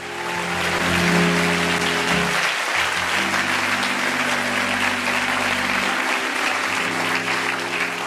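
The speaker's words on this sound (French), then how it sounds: "Acclame, acclame, acclame, acclame, acclame, acclame, acclame, acclame, acclame." A church congregation applauds steadily and loudly throughout, a dense continuous wash of clapping with a faint sustained musical tone underneath.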